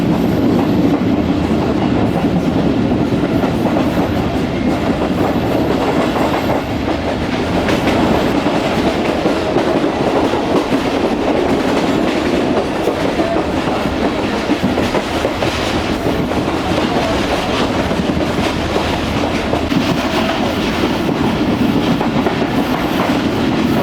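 Tezgam overnight passenger train in economy class running from Karachi toward Khanpur, a loud steady rumble of wheels on rails with a continuous clattering roar heard from inside the carriage.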